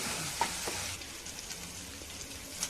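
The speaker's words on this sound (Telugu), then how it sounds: "ఇవి అల్లం ఎల్లిగడ్డ పేస్ట్ కొంచెం వేసుకున్నాను అది కూడా పచ్చివాసన పోయేటంత వరకు వేయించుకోవాలి" Ginger garlic paste sizzles steadily in hot oil for a tomato gravy, a close, continuous hiss with faint crackles and an occasional stir.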